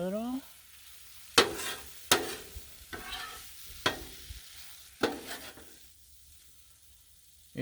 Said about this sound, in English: stir that up a little.